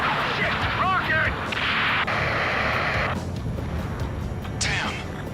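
A rocket explosion in the air-combat video game Ace Combat: a loud, sustained roaring blast and rumble that fills the scene, with a brief voice near the start and a sharp burst toward the end.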